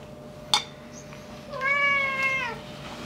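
A house cat meows in a kitchen: a faint short chirp, then one drawn-out, rising and falling meow close by, with no talk over it.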